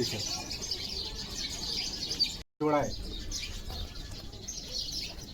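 Pigeons in a loft in Chikhli, Maharashtra, including a special breeding pair, chirping and stirring with a brief flutter, close and continuous under a voice speaking briefly.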